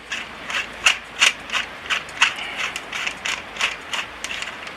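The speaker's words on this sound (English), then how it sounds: "you have to unscrew the second muzzle brake thing here" Ratcheting clicks from the muzzle brake being unscrewed on an ASG Scorpion EVO 3A1 airsoft gun, a close series of sharp, irregular mechanical ticks repeating throughout, with no speech.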